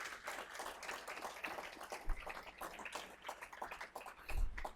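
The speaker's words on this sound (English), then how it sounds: "Let's give all the awardees for service, length of service, another round of applause." Another round of applause from an audience at a healthcare system quarterly awards ceremony for service and length-of-service awardees, a faint, steady patter of clapping throughout.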